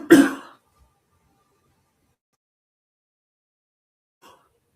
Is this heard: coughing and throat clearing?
yes